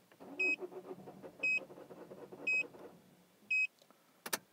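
Vauxhall Corsa D 1.3 CDTi diesel with an intermittent no-start fault, its engine cranking steadily for about three seconds without firing, with four evenly spaced warning beeps over the churning starter and a short electronic chirp after it stops.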